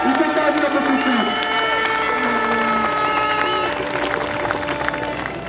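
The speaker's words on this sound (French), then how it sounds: "Voilà vos applaudissements pour Olivier Dufour" Crowd at a European autocross championship final in Stigny, 2010, applauding and cheering for driver Olivier Dufour; sustained clapping and shouts with scattered whoops and children's cries, fairly loud and continuous throughout.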